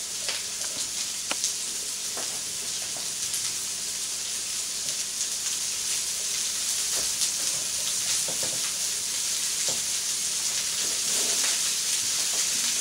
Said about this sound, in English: Yeah, it's sizzling away there,